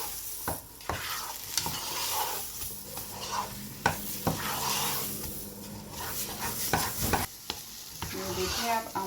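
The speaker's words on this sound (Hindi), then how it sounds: "इसलिए आपने इसको लगातार हिलाना है और इसको लगातार पकाते जाना है" Gajar ki barfi, a thick carrot mixture, being stirred steadily in a pan, with repeated scraping and clacking strokes of the spoon over a soft sizzle, close and fairly quiet, without any talking.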